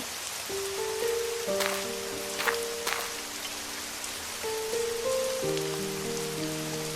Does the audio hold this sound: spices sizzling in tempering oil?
no